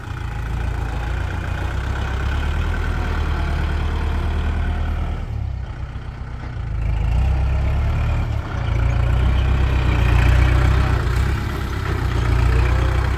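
A small walk-behind tractor plows a rice paddy, its mid-pitched engine running steadily and loud nearby, chugging with a short dip in load partway through.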